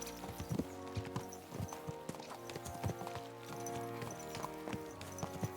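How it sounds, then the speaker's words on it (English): Horse hooves clip-clopping in Kingdom Come: Deliverance II, a quick uneven rhythm of hoofbeats from several horses ridden at pace, with soft tack jingles and background music underneath. "Let's really spur these horses on, eh?"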